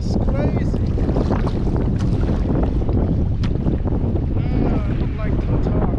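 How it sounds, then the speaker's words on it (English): Strong wind buffets the microphone on an anchored boat, a constant loud roar with churning waves and water sloshing against the hull, plus faint creaks, all steady for the whole stretch. "The wind and the wave just crazy."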